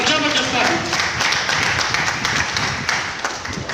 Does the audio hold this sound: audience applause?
yes